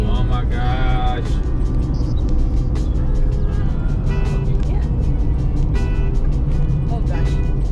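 A car travelling on a road in Brazil, its steady broadband engine and tyre roar continuous and close throughout, with brief higher tonal whines and a voice speaking over it.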